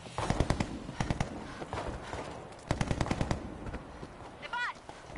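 Bursts of rapid automatic gunfire in the zombie shooter World War Z, coming in clustered volleys with a short pause between, loud and close, with a faint voice underneath.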